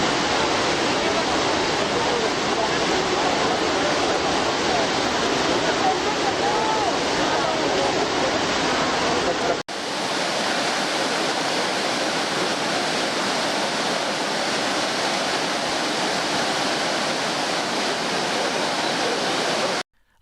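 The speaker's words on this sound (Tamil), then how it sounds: "சத்தீஸ்கர் மாநிலத்தில் நக்சல் கட்டுப்பாட்டில் இருந்த இயற்கை எழில் கொஞ்சும் சித்ரகோட் அருவி." Chitrakote waterfall in Chhattisgarh roars as a loud, dense, unbroken rush of falling water, briefly cut near the middle and then resuming just as strongly.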